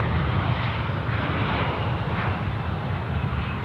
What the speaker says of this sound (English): Korean now, the 777 coming in.